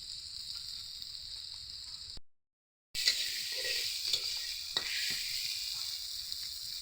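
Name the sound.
spices and potatoes frying and stirred for snail curry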